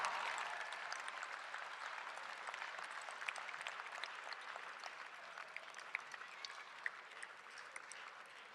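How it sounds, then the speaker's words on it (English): A large crowd at a law school graduation ceremony applauds steadily for several seconds, a dense, distant-sounding patter of clapping with a few sharper claps standing out. "will all the graduates stand up, turn around, and applaud your parents"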